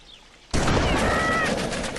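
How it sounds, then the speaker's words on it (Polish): Gunfire in the video game GTA Vice City starts suddenly after a quiet moment and keeps going as a loud, dense, continuous burst of shots with a faint tonal ring, close and alone with no talk. "W ułamku sekund strzał."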